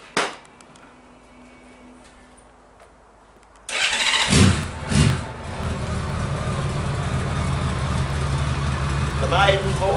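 Honda Valkyrie trike engine cranking and catching after a quiet pause, then settling into a loud, steady, rumbling idle close by, with brief voices over it.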